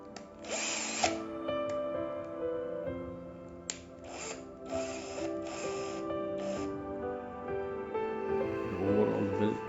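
A Black & Decker 18V AutoSense cordless drill runs in steady bursts, a whining motor hum that changes pitch as it works, close and fairly loud with no talk.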